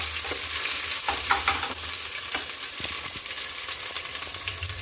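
Food frying in a pan for dum biryani with garlic paste, a steady bright sizzle broken by several sharp stirring scrapes and clatters, close and alone.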